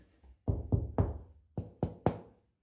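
Two sets of three sharp knocks are struck on a hollow wall at the old stair cutout where the stairs once met the landing. The knocks land close and dull, with a short pause between the groups.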